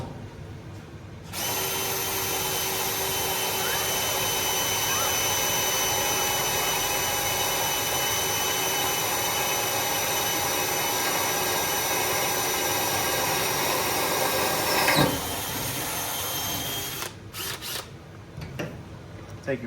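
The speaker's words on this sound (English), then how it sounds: "get you a T40 star bit, run that down in there like so, blow out your sawdust" A power driver runs a bolt fitted with a T40 star bit into a wooden trailer deck board with a long, steady whine, then stops; short bursts of air follow as sawdust is blown out.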